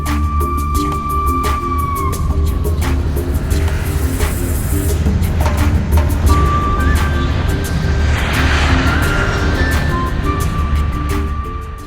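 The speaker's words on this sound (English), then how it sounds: "As the plane was taking off, everything seemed normal." Boeing 747 jet engines roar steadily and loudly during takeoff, a dense, continuous broadband rumble that never lets up, with faint tonal whines layered on top.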